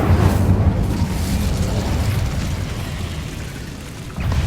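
A fiery blast from the Incendio spell in Hogwarts Legacy, a loud roaring burst of flame that rumbles steadily for several seconds with a deep, boomy low end, then briefly swells again near the end.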